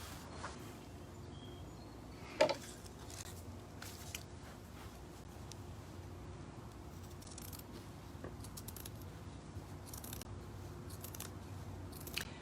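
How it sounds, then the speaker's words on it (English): Scissors cutting upholstery fabric for an Eastlake chair seat, heard as soft, close, repeated snips, with one sharper snip near the start, over a quiet, steady room hum. "So I'm cutting right to the corner here of this corner edge."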